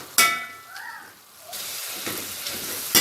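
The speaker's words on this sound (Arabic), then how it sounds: "هجيب هرسه البطاطس دي، وهفضل ان انا اهرس فيها البصله" Boiled onion being mashed in water with a potato masher: a sharp clack, then wet squelching and sloshing presses in short bursts, close by.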